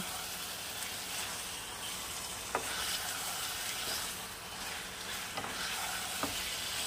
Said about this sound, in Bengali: আবার একটু নাড়াচাড়া করব, করে নামিয়ে দেবো